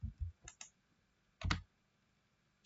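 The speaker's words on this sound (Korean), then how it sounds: "키보드에서 딜리트 버튼 눌러서 삭제합니다" Computer keyboard keys clicking, with the Delete key pressed to remove an item: a few quiet, sharp taps close by, an isolated double click near the start and one firmer press midway, in an otherwise quiet room.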